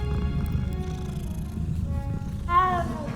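Cat purring as it is petted in the video game Hogwarts Legacy, a steady low rumble throughout, with a short meow-like rising sound near the end.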